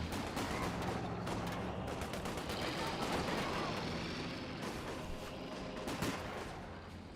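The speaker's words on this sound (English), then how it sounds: "Conscripts firing away." Conscript infantry rifle fire crackling continuously in Company of Heroes 2, a steady dense fusillade of overlapping shots under constant battle noise, with talk over it.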